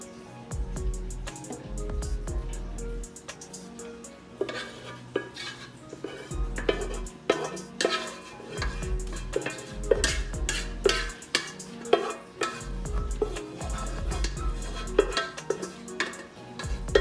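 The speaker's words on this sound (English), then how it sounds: "Now it's time to mix it in" A spoon scrapes and clanks against a pot while ingredients are mixed, with repeated irregular metallic knocks and scraping strokes that run steadily throughout, close up and fairly loud.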